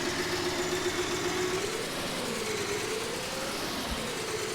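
An old farm tractor engine runs at a steady idle, giving a continuous rumbling drone with faint knocking, moderately loud and unchanging throughout.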